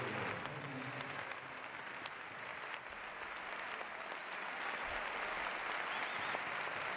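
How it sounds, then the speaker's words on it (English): Stadium crowd at José Zorrilla applauds a substituted midfielder during a Spanish Segunda División football match, a faint, steady wash of distant clapping and crowd noise. "But Rodri is going to exit, and very much deserving of the applause he's receiving here at Jose Zorrilla Stadium."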